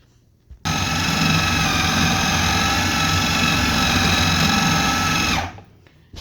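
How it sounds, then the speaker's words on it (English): A food processor making peanut butter starts abruptly and runs with a loud, steady motor whir and grinding for about five seconds, then stops. "unplug the food processor and plug it back in and go again."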